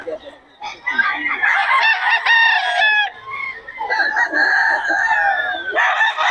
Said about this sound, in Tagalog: Murang-mura mga manok ni Boss Joey